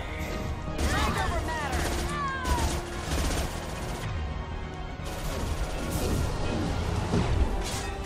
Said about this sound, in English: Headshot sniping with an SMG.